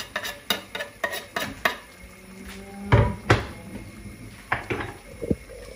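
Chopped bird's eye chili and onion dropped into a cooking pan, with a series of sharp clattering knocks and scrapes of utensils against the pan and a faint sizzle between them, close and without talk.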